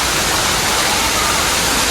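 Water rushing from Sai Yok waterfall in Thailand makes a dense, steady roar of broadband white-noise-like flow, loud and unbroken throughout.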